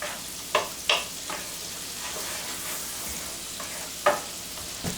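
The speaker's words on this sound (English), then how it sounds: "Well, I guess we'll just let it cook down." Shrimp Newburg sauce with Marsala wine simmering in a pan, giving a steady soft sizzling bubble with a few sharper spatters and stirring clicks now and then, close and moderately loud with no talk.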